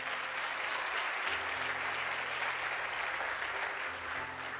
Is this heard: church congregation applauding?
yes